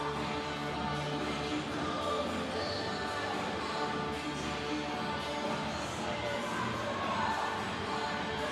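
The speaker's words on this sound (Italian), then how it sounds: "Applausi al Bologna." A large crowd in a noisy hall at a futsal match, sustained cheering and clapping for the Bologna team blending into a steady roar, with scattered shouts from children.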